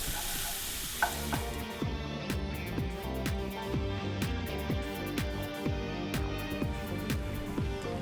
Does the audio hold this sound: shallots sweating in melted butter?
yes